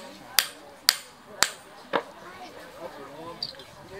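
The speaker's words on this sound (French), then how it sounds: "les samouraïs, ils forgeaient leur sabre comme ça" Hammer blows on metal ring out in four sharp, evenly spaced strikes, then fade into quieter taps, sword forging at a Gallo-Roman heritage festival in Saint-Romain-en-Gal.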